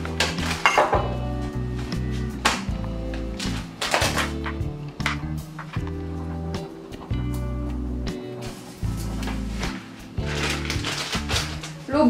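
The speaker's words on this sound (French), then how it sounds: "on va s'attaquer tout de suite aux champignons. Je vais les couper." Knife chopping mushrooms on a kitchen board, a steady run of close, sharp thunks and clinks repeating for several seconds.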